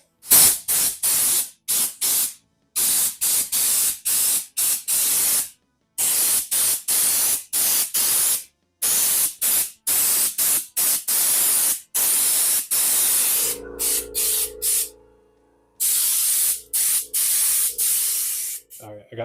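Raptor Liner undercoating hisses from a spray gun onto the underside of a Volkswagen Beetle in many short, sharp bursts with brief silences between. A low hum enters near the end.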